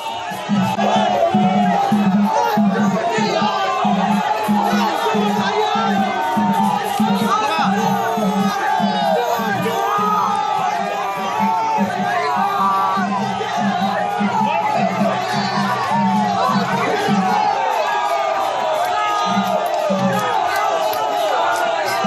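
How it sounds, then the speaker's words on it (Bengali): A dense crowd of BJP party workers chanting slogans during Suvendu Adhikari's rally procession in Nandigram, a loud continuous roar of voices with rhythmic chanted bursts throughout, close and unbroken. "শুভেন্দু অধিকারীর মিছিল যাওয়ার সময় পদ্মকর্মীদের স্লোগান"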